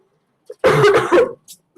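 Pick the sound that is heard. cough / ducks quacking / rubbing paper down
cough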